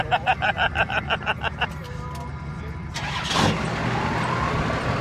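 A hot rod engine cranks with a rhythmic starter chug, then catches and settles into a loud, rumbling idle, with voices faintly underneath.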